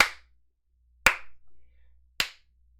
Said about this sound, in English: suddenly you hear slow clapping.